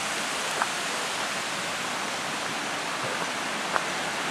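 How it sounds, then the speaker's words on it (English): Waterfall on the Kumano Kodo trail in Japan, a steady broad hiss of falling water filling the whole scene, continuous and fairly loud with a couple of faint clicks, no speech. "look at that waterfall"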